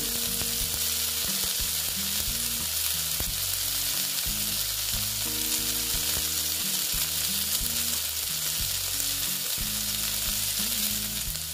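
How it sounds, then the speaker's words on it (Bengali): Bitter gourd (karela) frying in oil gives a loud, constant hissing sizzle close up, continuous throughout with background music playing underneath. "ভেজে নিচ্ছি আস্তে আস্তে করে"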